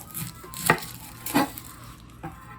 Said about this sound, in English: I'm going to cut the ends off this onion first